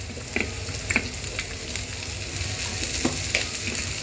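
Beans and other vegetables frying in a pan for masala Maggi, a steady close sizzle with occasional light scrapes and clicks of stirring, no voices.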